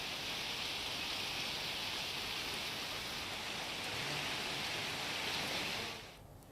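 Steady rain pours down in Talala, Gir Somnath, as a dense, even hiss of falling water that stays constant and then drops away sharply at the end.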